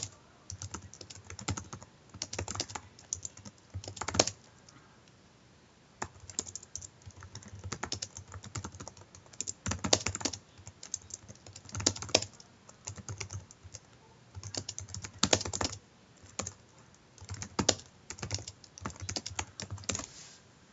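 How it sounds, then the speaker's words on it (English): Continuous typing on a computer keyboard, with bursts of key clicks broken by brief pauses, close and moderately loud with no talk. "And I'm just typing this out"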